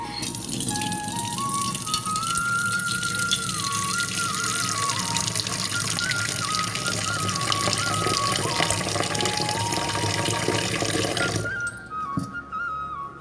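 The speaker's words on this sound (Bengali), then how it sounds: "আমি একটু বেসিন থেকে জল নিয়ে এসে দিলাম, যাতে ও আলুটা ভালো করে ধুতে হবে" Water running steadily from a sink basin tap, drawn for washing potatoes in a home kitchen; a continuous close splashing stream that changes character near the end as the flow is disturbed.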